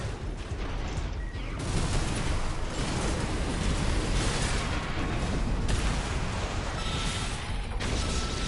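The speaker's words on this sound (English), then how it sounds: "Got that nice explosion from the assault armor." Assault armor blast in Armored Core 6 PvP mech combat, a broad roaring burst of explosive noise that sustains as a dense, loud wash over several seconds amid mechanical rumble.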